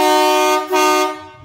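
A marine horn, freshly serviced with one part replaced, blasts a loud, steady, buzzy tone close by, dipping briefly midway before tailing off.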